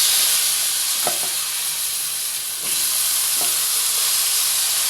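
Eggplant slices sizzle steadily in leftover hilsa-frying oil in a wok, a bright continuous hiss with a few soft clicks of stirring, close and alone.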